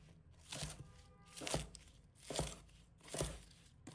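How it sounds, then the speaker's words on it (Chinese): A knife chops garlic sprouts into small pieces on a board: four distinct, evenly spaced crisp strokes, close and fairly quiet, with no talking. "把它切成小段。"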